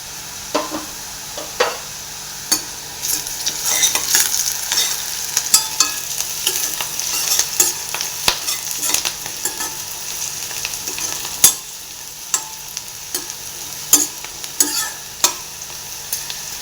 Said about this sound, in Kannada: ಇದು ಚೆನ್ನಾಗಿ ಒಂದು ಸ್ವಲ್ಪ ಗೋಲ್ಡನ್ ಬ್ರೌನ್ ಆಗಬೇಕು ಅಲ್ಲಿವರೆಗೂ ಫ್ರೈ ಮಾಡಬೇಕಾಗುತ್ತೆ